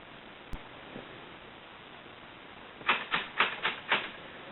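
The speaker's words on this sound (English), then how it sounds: "And you heard that click, click, click, click" Pressing the B key on a model railroad controller brings five evenly spaced clicks in quick succession, close and fairly crisp, after a quiet stretch with one faint tap near the start.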